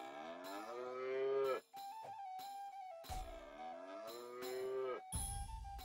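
A cow in South Park: The Stick of Truth lets out two long, loud, drawn-out moos, each ending in sharp game sound effects, with short gaps between.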